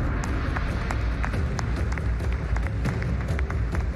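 Audience applause at an MMA press conference, a dense steady wash of many hands clapping with crowd noise throughout, loud and continuous with no speech.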